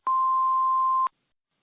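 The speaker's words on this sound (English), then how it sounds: "Please leave a message after the tone." An answering machine's message tone sounds as a single steady, clean beep lasting about a second, heard alone and followed by silence.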